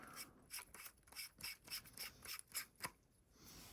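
Metal lightsaber hilt parts screwed together by hand, giving a quick, faint series of about a dozen rhythmic ratcheting clicks and scrapes up close, with no talk.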